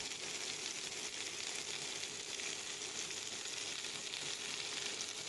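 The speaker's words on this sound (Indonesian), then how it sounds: "Bisa dibilang digoreng, juga bisa dibilang dipanggang" Zucchini fries gently in a pan over a low flame, giving a steady, even sizzle that holds at one level throughout, close and alone with no talk.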